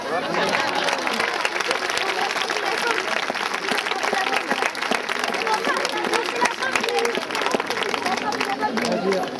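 An audience applauds two horse riders at the end of an equestrian demonstration, a dense, steady wash of clapping with crowd noise and cheering running the whole time, loud and continuous.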